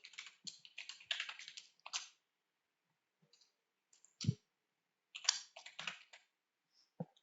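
Someone types a password on a computer keyboard: a quick run of close, crisp key clicks, a brief pause with a few scattered taps, then another short burst of keystrokes.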